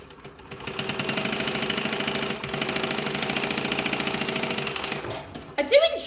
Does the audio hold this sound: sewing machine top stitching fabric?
yes